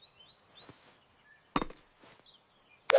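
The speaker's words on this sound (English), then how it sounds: "Please hold this corner tightly while I use the big hammer." A big hammer drives heavy tent pegs into the ground at a picnic campsite, two sharp isolated thuds well apart, with faint bird chirps between.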